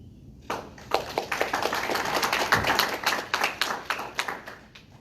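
Applause from the audience at a Democratic candidate forum for North Carolina's 11th District, a dense burst of many hands clapping that starts suddenly, holds steady and loud, then slowly thins out.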